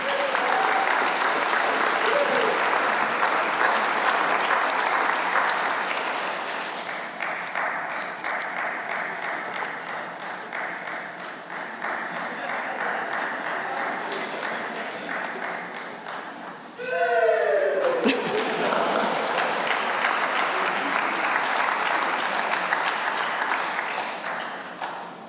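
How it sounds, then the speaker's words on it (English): Sustained audience applause at a 2021 Campbellsville University Human Performance graduation ceremony, a long steady wash of clapping that dips midway, then briefly surges again after a short sweeping tone. "Another round of applause for our graduates"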